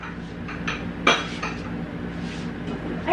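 Plates and dishes being packed up while moving out of a condo, with a few close clinks and clatters of ceramic and cutlery, one sharper knock standing out among lighter scattered taps.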